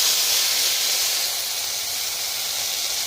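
Ground cumin paste hits hot mustard oil in a pan and sizzles loudly, a steady close hiss that holds for the whole stretch.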